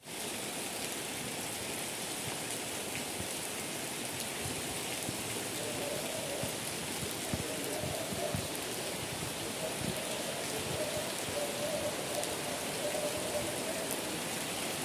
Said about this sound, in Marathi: सकाळपासून कंटिन्यू पाऊस चाललाय